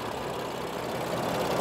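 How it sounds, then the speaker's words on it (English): A 2016 BMW M3 with M Double Clutch transmission idles steadily and smoothly, heard up close from the engine bay as an even, continuous low rumble with no talking. "You can hear the engine is idling quite happily, very smooth"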